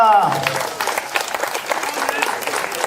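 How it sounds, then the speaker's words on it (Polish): Steady applause from an outdoor crowd at a camping-site tourist song festival, dense continuous clapping for the third-place laureate band, with voices mixed in under it. "Wielkie brawo!"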